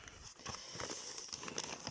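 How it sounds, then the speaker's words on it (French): Sticky tape pulled and torn in a scrapbooking craft room, a run of close, scratchy bursts of ripping and crackling that come in uneven spurts over a faint room background. "excusez-moi pour le bruit du scotch"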